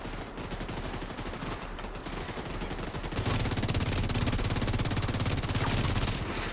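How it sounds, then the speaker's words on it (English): Rapid automatic fire from a FAMAS 2010 rifle in The Division 2, a dense continuous stream of shots that grows louder and heavier halfway through, with no voices over it. "the FAMAS 2010 has such a high rate of fire with the Striker gear set"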